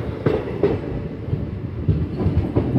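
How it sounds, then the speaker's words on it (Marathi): A CSMT–Hospet Gadag Express train runs along the main line, picking up speed, with steady rolling rumble and periodic clickety-clack wheel beats over rail joints, close and fairly loud. "आता परत मेन ट्रॅकवरनं गाडी आपली स्पीड घेऊन पुढे जायला सज्ज."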